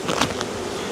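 Honeybees buzz close by while a beehive is opened for a brood inspection, a dense steady hum with a few sharper passes of individual bees over about a second.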